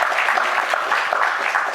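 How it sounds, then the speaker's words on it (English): Audience applause welcoming a guest to a fireside chat, a steady close wash of clapping at an even level from start to finish. "let's give her a round of applause."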